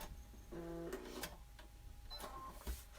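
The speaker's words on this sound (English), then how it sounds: "I'm sewing from edge to edge on this one, right along the solid line." A sewing machine stitching a quilt block edge to edge along a marked line, giving a few short mechanical whirring bursts with clicks in between, close and fairly quiet.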